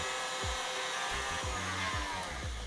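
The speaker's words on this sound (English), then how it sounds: "I'll start medium speed, make it a little bit frothy, and then we can just leave that to whisk until it's stiff and nice." An electric hand mixer whisks egg whites with cream of tartar at medium speed, giving a steady, loud motor whir with rhythmic low thumps about every half second as the beaters hit the bowl.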